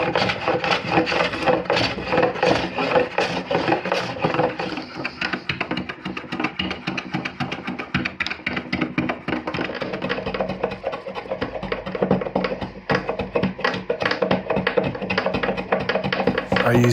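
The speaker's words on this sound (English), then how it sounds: "I used a spoke shave to finish up some of the tight inside curves" A spokeshave shapes the tight inside curves of a wooden paddle carved from a tree, giving continuous close scraping and shaving strokes in a steady, busy rhythm.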